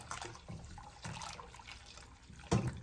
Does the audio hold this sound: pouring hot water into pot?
yes